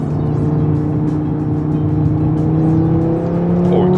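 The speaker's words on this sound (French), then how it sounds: "quand ça raccroche et quand le 5 cylindres chante, ça reprend" An Audi RS3 five-cylinder engine pulls hard under acceleration, its rising harmonic whine climbing steadily over a continuous loud rumble, heard from inside the car with no talking.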